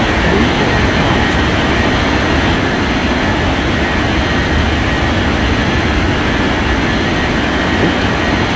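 A jet airliner rolling and taking off from runway 34 left in an air traffic control game, a loud, steady broadband engine roar that holds unchanged throughout with no talking.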